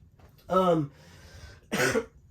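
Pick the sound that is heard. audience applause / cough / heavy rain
cough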